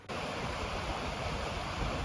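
Milk Creek in Oregon rushes steadily along a mountain trail, a constant broadband wash of flowing water with no other sounds.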